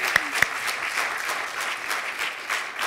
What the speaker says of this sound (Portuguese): Muito bem, uma salva de palmas.